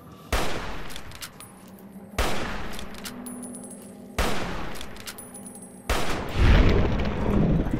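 Gunfire in the video game Fallout New Vegas at Quarry Junction, four sharp shots spaced about two seconds apart, each with a decaying tail, the last one followed by a heavier rumbling boom.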